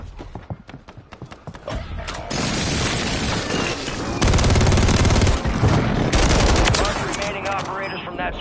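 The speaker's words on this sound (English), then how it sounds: "Friendly airstrike in the AO." A friendly airstrike in a console shooter lands as a heavy barrage of booms and rapid gunfire, building into a loud sustained roar of explosions that tails off at the end.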